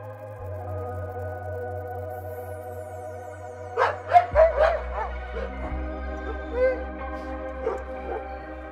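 Sled dogs barking and yipping outdoors in a northern winter, a short cluster of sharp barks in the middle followed by a few scattered yips over a quiet low hum.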